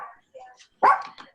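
A pet dog barks loudly once at close range, a sharp burst followed by a couple of softer yips, with bits of muffled talk before it.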